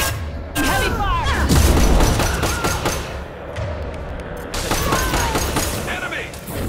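Heavy gunfire and explosive booms from a firefight in the video game Mass Effect 2, dense bursts of shots and thuds running almost continuously, with a voice talking over the action.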